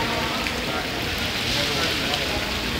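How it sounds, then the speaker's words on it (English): Rain falls at a tropical rainforest in Puerto Rico, a dense, steady hiss of drops filling the whole stretch at moderate level with no clear speech over it. "You ain't showing them the rain?"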